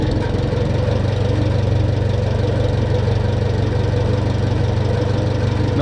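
A Farmall B tractor engine idles steadily, its even low thrum and firing pulses close and constant with no speech.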